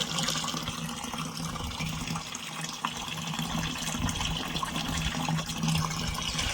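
Benevia pesticide mixture pours into water for tomato crop spraying, a steady gushing, splashing flow that runs continuously and fairly close throughout.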